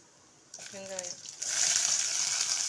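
Onions hit a hot pan with lentils, cinnamon bark and chillies, and a bright steady sizzle quickly rises and holds; a voice speaks briefly just before the frying swells.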